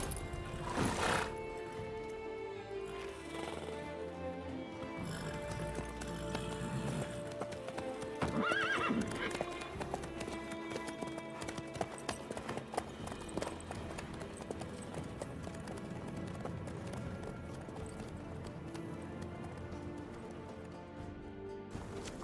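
Horse hooves clip-clop steadily in The Witcher 3: Wild Hunt as the mount travels, with an occasional whinny, all carried over a dense, continuous bed of background sound.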